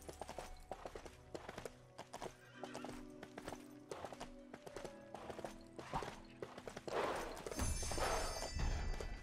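Horse in the video game LEGO Worlds: steady clip-clop hoofbeats running throughout, with whinnies and neighs rising louder near the end over a busy game soundtrack.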